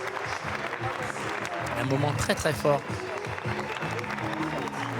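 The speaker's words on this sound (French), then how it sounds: "De longues minutes d'applaudissements." A standing audience in the Théâtre Lumière at the Cannes festival gives sustained applause after a Ken Loach film, a dense steady clapping heard beneath a reporter talking over it.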